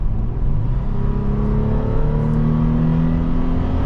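A 2023 Toyota 4Runner TRD Off Road Premium accelerating, heard from inside the cabin as a loud, steady engine drone whose pitch rises smoothly, with no talking.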